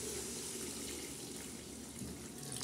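Water splashes and pours steadily into a cooking pot while chicken biryani is made. The pour is a continuous close, rushing trickle, heard alone for a few seconds.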